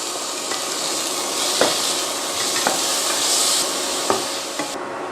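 Ginger garlic paste sizzling in a pan with softened onion and tomato, a steady close fry under a few knocks of a spoon against the pan, with no talking.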